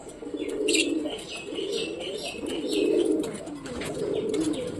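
Pigeons coo in low, rolling phrases that repeat steadily, with faint chirps and a brief wing flutter mixed in. The birds sound close, and no one speaks.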